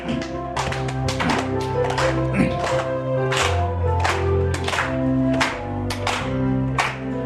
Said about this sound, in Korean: 박수 치시면서 한번 부르십시다